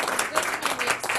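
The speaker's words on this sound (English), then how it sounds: "I don't know whether they're applauding your leaving or your years of service" Audience applause fills a board of finance meeting room, a dense, steady wash of many hands clapping at moderate loudness for about a second, with some voices mixed in.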